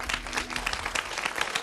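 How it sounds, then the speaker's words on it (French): A crowd applauding after a story about local residents saving the heritage of Aunay-sur-Odon in Normandy, a dense patter of clapping sustained through the moment at moderate level. "Donc on peut les applaudir"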